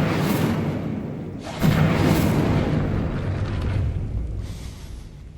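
Hogwarts Legacy Incendio fire spell cast in a dungeon near a gate: a loud, close whooshing burst of flame that swells into a sustained roaring rumble, then fades with a softer flare near the end.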